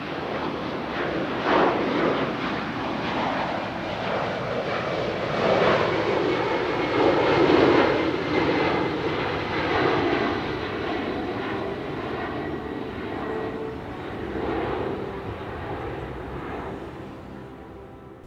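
A Boeing KC-46A Pegasus tanker, built on the Boeing 767 airliner, roars past at an airshow, its jet engines a loud sustained rumble that swells and recedes across the pass with a hissing whine on top, no talk.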